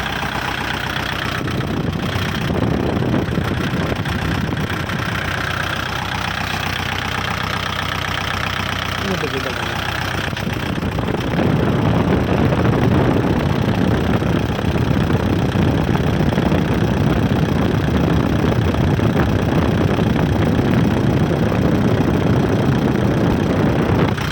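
A used tractor engine idles steadily and continuously, a low mid-range rumble that grows louder and rougher about halfway through.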